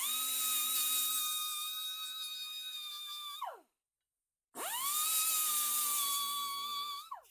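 A high-pitched power grinder bevels the edges of a cast iron piece: two long steady whining runs, each tailing off as it spins down, with a brief silent gap between them, close and alone.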